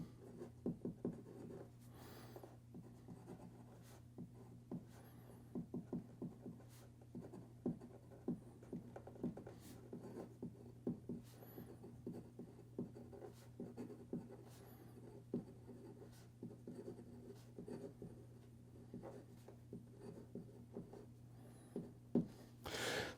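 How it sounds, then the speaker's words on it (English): A MetMo fidget pen fitted with a Parker-style black ink refill writes across paper, a faint continuous scratching broken by small ticks and taps, with a steady low hum underneath and no talking. "So while I was writing with that"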